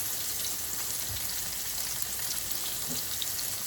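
Pork chops brown in hot oil in a pan, a steady close sizzling hiss with a few soft pops and a light knock.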